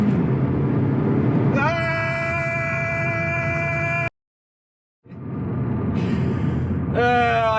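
An Audi S3 accelerates hard on a race track, its engine note climbing in pitch, cutting out completely for about a second during a gear change, then revving upward again close and loud.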